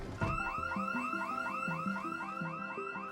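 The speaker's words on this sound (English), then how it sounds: "a house alarm" A house alarm in the Project Zomboid video game, a loud repeating electronic wail that cycles up and down in pitch over a pulsing lower tone, sounding alone.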